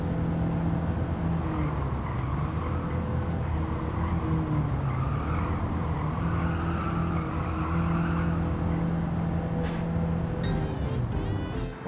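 A Gran Turismo 7 electric car drives with a continuous loud whine that rises and falls gently in pitch over a low hum, with some tyre squeal, and a few sharp clicks near the end.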